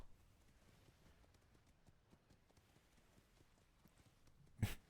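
Horse hooves clip-clop steadily at a walking pace in a video game, a faint, regular stream of soft knocks over a quiet background, ending with a brief louder thump.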